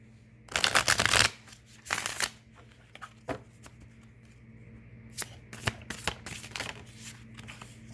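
A new tarot deck is shuffled by hand: a long riffling burst, a second shorter one, then scattered soft card taps and slides, close and without talk.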